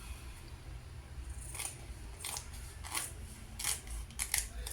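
Scissors snip through felt while cutting out a Santa Claus hat shape for a Christmas wreath, giving several quiet, separate crisp cuts at irregular intervals over a low steady background hum.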